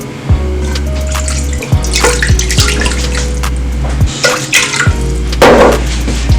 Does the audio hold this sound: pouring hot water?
yes